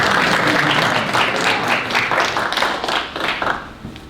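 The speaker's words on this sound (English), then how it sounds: "You may applaud." Applause fills a military graduation ceremony for Multi-Domain Warfare Officer graduates, steady clapping from a large audience that runs throughout and tapers off near the end.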